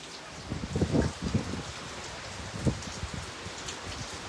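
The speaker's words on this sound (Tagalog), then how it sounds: "Grabe ulan na dito sa Manila" Heavy rain falls in Manila, a dense steady patter of drops on surfaces with a few louder splashes and thuds near the start, no voices over it.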